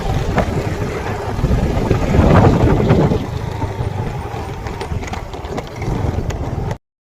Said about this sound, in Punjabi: ਮੈਂ ਹੁਣ ਜਾ ਰਿਹਾ ਘਰੇ ਸਕੂਟਰੀ ਤੇ